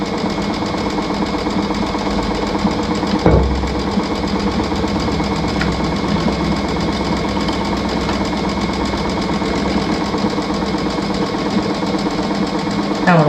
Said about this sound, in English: So we're going to sew this one.